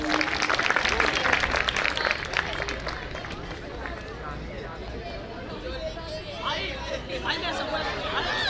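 An audience at a school prize-distribution event applauds the winning children, a dense, steady wash of clapping mixed with crowd chatter throughout.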